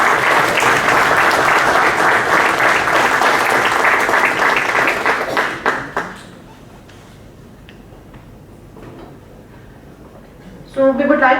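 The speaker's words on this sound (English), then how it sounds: "Please give them another thunderous round of applause for their incredible contribution." Loud, dense audience applause fills a conference hall after a panel discussion at a startup conclave, sustained for about six seconds before fading to quiet room tone, then a brief voice at the end.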